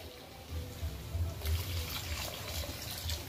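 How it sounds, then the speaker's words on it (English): Steady stream of water running and splashing into a pot, a continuous close hiss with low gurgling underneath. "so now we're going to put in our water"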